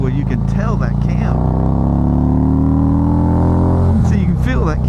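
Harley-Davidson Street Glide touring motorcycle with a modified cam pulling hard on an evening ride, the V-twin engine rising steadily in pitch through the gears with loud exhaust, easing briefly before revving again.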